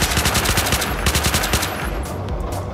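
Rapid bursts of turret machine gun fire in the video game Unturned, loud and close, with repeated rattling volleys that pause briefly before resuming.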